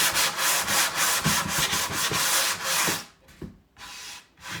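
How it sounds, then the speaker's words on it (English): Rhythmic back-and-forth rasping of 120-grit sandpaper rubbed by hand over wood, close and steady, then a few slower, separated strokes near the end. "So I'm just kind of sanding this."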